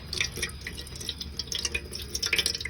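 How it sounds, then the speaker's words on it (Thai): Boiled water being strained off cooked giant konjac stems, a wet, uneven trickle and patter of dripping liquid, close and moderately quiet, with no talking. "กรองน้ำเกาออก น้ำที่เราต้มมาค่ะ"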